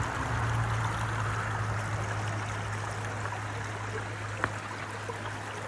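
A creek rushes steadily over rocks, a continuous close watery hiss with no pauses.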